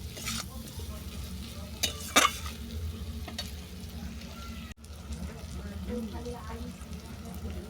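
Spices sizzle and are stirred in a pan for a mango and prawn curry, a continuous close frying hiss with a few louder scraping strokes, while someone talks over it.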